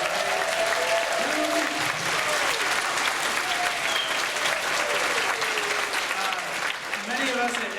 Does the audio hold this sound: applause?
yes